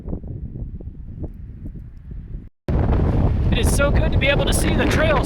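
Gusty wind buffeting the microphone on a mountain ridge, a lighter rumble that cuts out briefly and then returns as a loud, constant roar, with a voice speaking under it.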